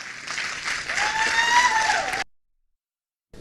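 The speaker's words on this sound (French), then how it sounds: "Que j'aimerais recevoir ici sous vos acclamations, s'il vous plaît." An audience at a church service applauds and cheers in a sustained, dense burst of clapping lasting about two seconds, then cuts off into silence.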